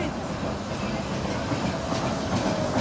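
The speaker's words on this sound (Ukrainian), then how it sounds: "Львівський трамвай" A Lviv tram rolls past on the street, its steady rumble and rhythmic wheel clatter on the rails filling the clip, close and fairly loud, with faint voices in the background.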